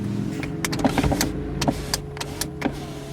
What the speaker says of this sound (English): Got your power windows.